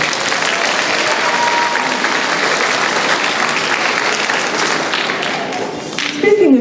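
An audience claps for sixth graders at a middle school winter orchestra and choir concert. Dense, steady applause fills the clip and thins slightly near the end, where a voice begins.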